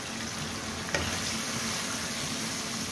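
Chicken with coriander and black pepper frying in a pan for a black pepper chicken dish, giving a steady, even sizzle that stays at one level throughout with no voices.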